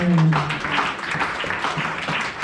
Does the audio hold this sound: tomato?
no